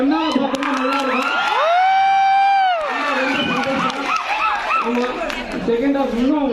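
A cheering crowd at a gathering for the film Rabbar Bandu whoops and shouts, with a long sustained yell rising above the din and lively voices throughout; a person talks amid the noise.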